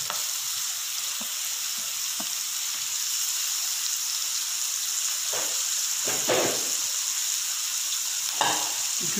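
Capsicum fries in a pan of hot oil for a spring roll filling. A constant close sizzle carries throughout, broken by several scraping stirs of a spatula, with no talking.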